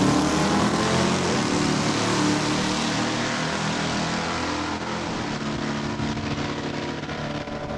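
Drag race cars, a Duster and an Orange Nova, launching off the line at a raceway, loud engine roar that fades gradually as the cars pull away down the track.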